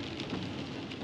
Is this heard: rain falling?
yes